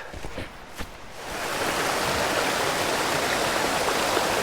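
Bastion Cascades waterfall tumbling over rocks, a broad steady rushing roar that swells up after a few soft footsteps and then holds loud and constant, close by.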